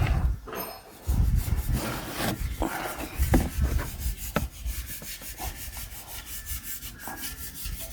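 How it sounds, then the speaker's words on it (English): A screwdriver is pushed and ground into the soft, rotten wood of a boat transom. The scraping and rubbing runs close and steady with several sharp cracks, and no one speaks. "I'm going to take a screwdriver, I'll push it in all the way."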